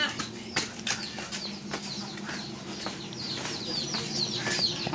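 Domestic chickens in a rural yard clucking and repeatedly flapping their wings, with sharp bursts of wingbeats scattered over steady nearby clucks and background farmyard noise.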